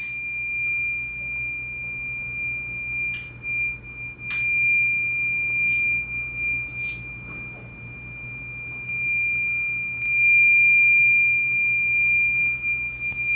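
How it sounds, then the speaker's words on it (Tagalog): A biomedical machine's alarm holds a steady, continuous high electronic tone that keeps the machine from starting, with a few faint clicks and knocks in the background. "So this alarm is the one preventing the machine from starting"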